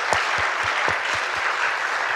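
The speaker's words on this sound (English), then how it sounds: "Let's give them a round of applause again," Dense applause from the audience at a children's music recital, steady and fairly loud, with a few heavier thumps pulsing underneath throughout.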